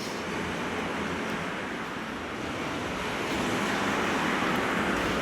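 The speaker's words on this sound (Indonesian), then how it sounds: "Suasananya ombak ya, teman-teman. Suara terjangan air laut." Sea waves wash against an island shore near Banda Aceh, a continuous broad rushing roar with some wind noise, steady and fairly close throughout.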